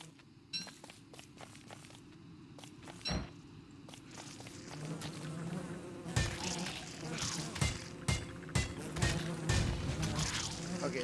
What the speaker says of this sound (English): fighting a whole swarm of bees is annoying because they can sting you